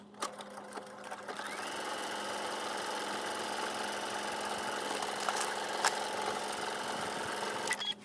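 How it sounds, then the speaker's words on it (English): Sewing machine stitching a pocket seam on a garment, a steady mechanical whir running continuously for several seconds, close and even, with a few brief clicks at the start and end, no speech. "Then take it to the machine and give it a stitch."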